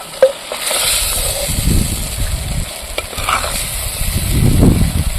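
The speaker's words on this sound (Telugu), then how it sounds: "కొద్ది నూనె ఎక్కువ వేసుకున్నాం కాబట్టి బాగా మగ్గాయి టమాటాలు" Tomatoes cook in oil in a pan, a steady soft sizzle with irregular scraping stirs and spoon clinks throughout, close and without talk.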